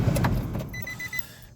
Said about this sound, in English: Let me roll this window down real quick.